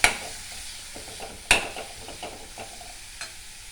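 Spinach stir-fried in a pan, with a continuous soft sizzle and scraping stirs, including a sharp clatter at the start and another about a third of the way in, alone and fairly quiet.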